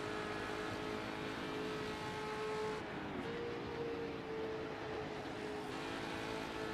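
A historic endurance race car drives a Le Mans circuit in the Assetto Corsa racing game. Its engine hums at a steady, moderate volume, dipping briefly in pitch partway through before settling back to a continuous drone.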